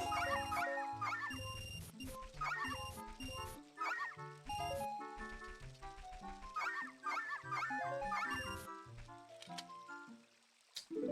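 Dogs barking in the Ocarina of Time randomizer game, heard as short repeated barks and yips mixed into steady game music and sound effects.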